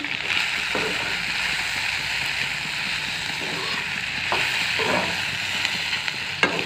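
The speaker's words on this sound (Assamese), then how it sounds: "এতিয়া ভালদৰে লৰাই দিম" Chicken sizzles and fries in a pan while a utensil stirs it, scraping now and then, close by, with faint talk in the background.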